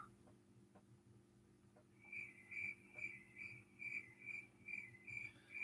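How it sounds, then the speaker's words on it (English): Crickets chirping in a quiet room, a faint, steady series of evenly spaced high chirps starting partway through, each repeating in a regular pulsing rhythm over a low background hum. "And the crickets are back again."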